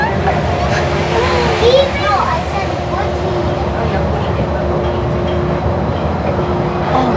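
Disneyland monorail train gliding into the Tomorrowland station, a steady rumbling ride noise with a sustained hum throughout, close and loud, with voices and an onboard announcement heard over it.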